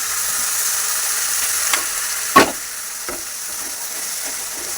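Ground pea pod paste sizzles steadily in a pan of fried spices, a loud continuous hiss with a few brief clatters of stirring.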